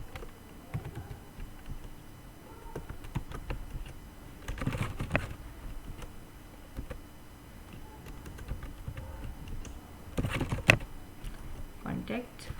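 Someone types data into a table on a computer keyboard, with uneven runs of soft, close key taps and a few louder bursts while someone talks over them at times.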